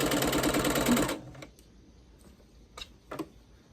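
A sewing machine stitches a quilt block with a brief, dense, whirring run that stops after about a second. A few faint clicks follow.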